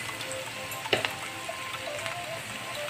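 Onions frying in hot oil for an arbi (taro root) dry sabzi, a steady close sizzle with a few sharp crackles and a light stir, no voices.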